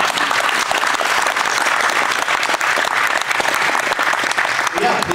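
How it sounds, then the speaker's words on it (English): Loud, sustained audience applause at a history night event, dense clapping from a full room close by that continues without a break. "Let's get one more round of applause for us."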